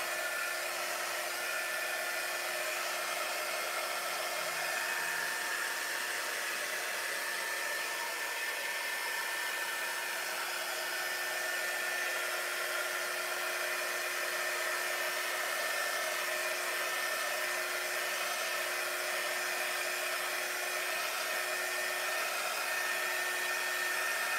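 A handheld heat tool blows steadily while drying paint on a wooden sign, a constant close airy whir with a faint motor hum and no pauses.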